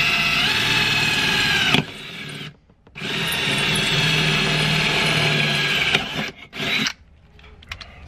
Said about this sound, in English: So we'll get our pilot hole drilled.